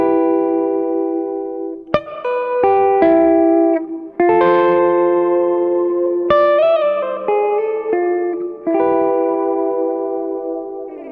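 An electric guitar played through a chorus pedal on a pedalboard, with sustained chords and single notes that shimmer and swirl, ringing out clearly on its own with short breaks between phrases.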